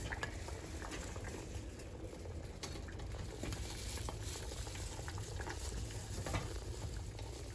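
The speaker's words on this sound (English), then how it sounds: "Now that the solution has been boiling for a half hour, we're going to scoop out all the skins and the seeds." Avocado skins and seeds scooped out of a pot of boiling avocado dye solution: steady bubbling boil with light stirring and scraping clicks throughout, close and continuous.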